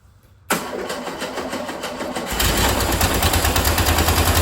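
A rebuilt engine in a 1974 VW Westfalia cranks and catches after a moment of quiet, then settles into a loud, close, steady rumbling idle that grows fuller partway through.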